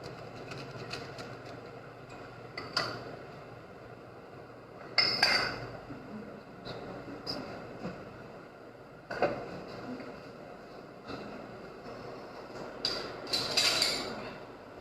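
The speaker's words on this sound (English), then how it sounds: "we just need to mix this very well" A utensil stirs Hershey's unsweetened cocoa powder in a bowl in a home kitchen, giving soft, sporadic clinks and scrapes against the bowl. The sounds are close but quiet, spaced irregularly over a hushed background.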